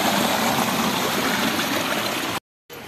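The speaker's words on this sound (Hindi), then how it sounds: "और ये है पानी का एरिया जहाँ से पानी आ रहा है" Water from a stream runs across irrigated village fields, a steady broad rushing and gurgling that fills the foreground and cuts off abruptly near the end.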